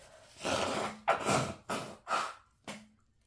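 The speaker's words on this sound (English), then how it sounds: "got to blow my nose a little bit again, because it's still running dang" Nose blowing, with several forceful blasts of breath in quick succession, separated by short pauses, loud and close, with no talking.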